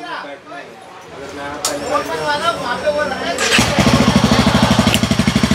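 Himalayan 450 motorcycle idling after the original exhaust was fitted with a decat bend pipe; a voice talks over a low background at first, then the engine fires up and settles into a loud, steady, pulsing idle.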